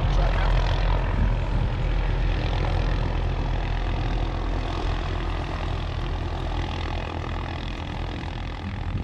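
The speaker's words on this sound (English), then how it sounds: "Here comes our ride now, just coming into land." A propeller airplane comes in to land in the mountains, its steady engine drone loud and close throughout, with low rumble and some faint talk beneath.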